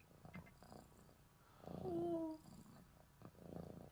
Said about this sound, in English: if you could listen close, you could hear him purring